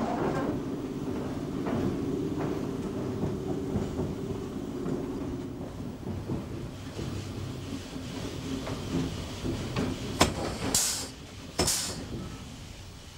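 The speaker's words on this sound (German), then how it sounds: "Sigrid Mörschel hat den Zug abgestellt" A train rumbles slowly and winds down, followed by a few sharp hissing bursts of air brakes near the end; no talking.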